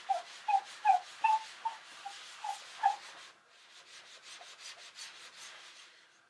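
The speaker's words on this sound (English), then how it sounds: "So just take the wet sponge and rub that all over." A wet sponge rubbed over dyed leather to even out darker, clumped patches of finish, giving a series of soft, close squeaky rubbing strokes and then a steadier, quieter swishing scrub, with no talking.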